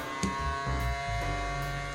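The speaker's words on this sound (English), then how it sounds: "The exit is also a blower, which can make a foam ball float in the air." Exhaust blower of a small vacuum droid running steadily, a continuous buzzing whir with slight fluctuations, close and fairly loud.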